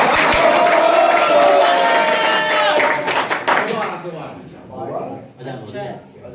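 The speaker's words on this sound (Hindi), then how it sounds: "एक जोरदार तालियां" A mushaira audience in Hapur bursts into loud, close clapping and cheering with crowd voices, the applause fading after a few seconds into scattered talk and murmuring.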